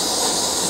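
A LighTake camping stove gives a loud, steady close-up hiss of burning gas, unbroken across a short burst.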